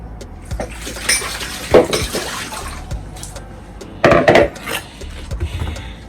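A knife cutting the core out of a cabbage on a board, heard as a few irregular knocks and scraping cuts with brief louder bursts, close and fairly quiet, with no talking.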